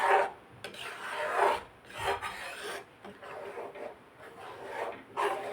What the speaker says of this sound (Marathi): ह्याला शिजवता वेळेस अजिबात इकडे तिकडे जायचं नाही सारखं ढवळत राहायचं आहे